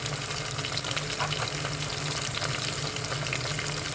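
Bay leaf frying in oil in a pan gives a steady, dense sizzle with a crackling hiss throughout, close and even, with no talking.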